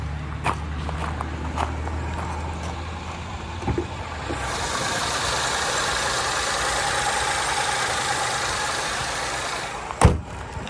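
A 2016 VW Golf Sportwagon five-door hatchback idles with the hood open, a steady low engine hum heard up close, with a few knocks and clunks, including a sharp bang near the end.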